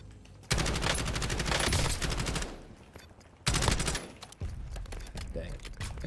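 Gunfire in Call of Duty Warzone comes in two loud sustained bursts of rapid automatic shots, separated by a brief quieter gap.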